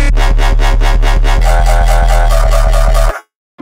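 A Serum synth bass with an LFO wobbling the filter cutoff, plus distortion and reverb, pulses in fast, even loud throbs for about three seconds, then cuts off abruptly into silence, with no talking.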